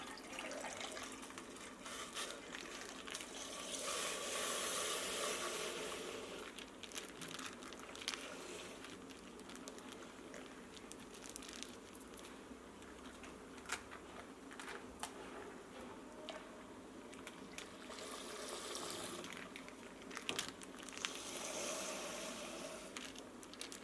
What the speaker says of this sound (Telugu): అందుకే నేను ముందు కొన్ని వాటర్ వేస్తున్నాను.